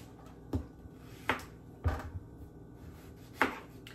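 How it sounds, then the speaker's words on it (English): A knife chops through firm squash in four sharp, separate cuts, close and clear against a quiet kitchen, with no talking. "Just take your knife and skim down the edge like I did."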